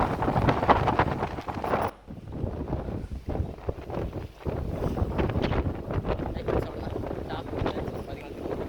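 Strong wind gusting over the full reservoir at Malampuzha Dam in Palakkad, roaring continuously into the microphone with buffeting bursts, while someone talks in Tamil through it.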